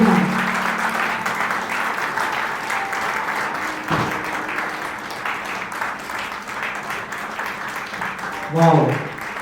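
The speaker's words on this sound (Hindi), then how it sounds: "तालियां तालियां तालियां।" Audience applause at a real estate launch event in Patna, a steady wash of clapping throughout with a brief louder swell near the end and some voices mixed in.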